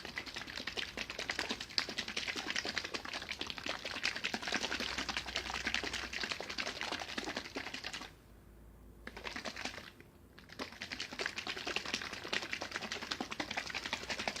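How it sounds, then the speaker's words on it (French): A closed container holding oil, coconut cream and dark beer is shaken hard, producing a dense, rapid rattling slosh up close that stops briefly twice before carrying on. "Vous agitez pour bien mélanger."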